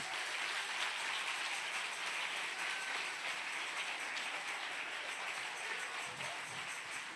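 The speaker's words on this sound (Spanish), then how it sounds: "Si le va a dar un aplauso." Church congregation applauding during a sermon, a dense, steady wash of clapping that fills the space from start to finish at moderate loudness with no clear voices on top.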